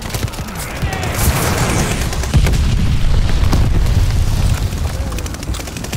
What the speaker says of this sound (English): Enemy shot glide bomb incoming.